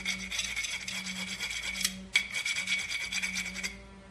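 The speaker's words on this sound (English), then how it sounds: "And just give it a little sand down, and now it's smooth again." Close, steady rasping of abrasive sandpaper on a stuck brake caliper piston, continuous back-and-forth strokes with a short break midway, no talk.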